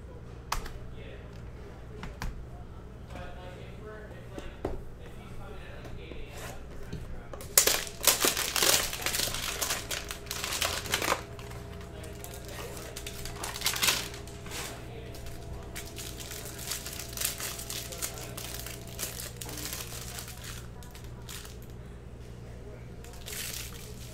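2018-19 Panini Chronicles basketball card packs from a hanger box being ripped open, with loud bursts of crinkling foil and tearing wrapper close by, followed by softer handling rustles and speech in between.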